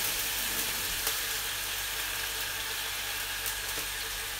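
White wine poured into a hot pan of pasta sauce for puttanesca hisses into a loud, steady sizzle that stays close and continuous, with faint bubbling crackles.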